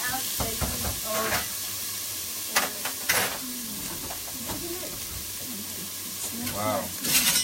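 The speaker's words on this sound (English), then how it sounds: "Fry onions, no oil." Onions fry without oil in a home pan, a moderate sizzle with repeated stirring scrapes and utensil knocks, and a voice briefly audible in the background.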